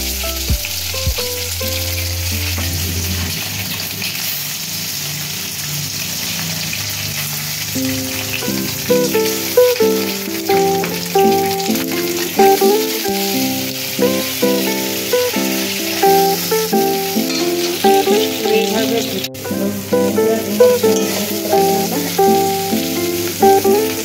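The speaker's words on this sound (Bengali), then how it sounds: "কড়াই তেল দিয়ে দিলাম। এবারে কুচি কুচি করে রাখা ডিমগুলো" Chopped eggs fry in oil in a wok, giving a loud, continuous close-up sizzle with bursts of spatter. A melodic music track plays underneath for most of the stretch.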